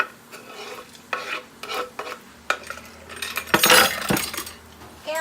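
Bacon stirred into leftover rice in a pan: a utensil scrapes and clinks against the metal in separate strokes over a soft sizzle, growing busier and louder toward the end.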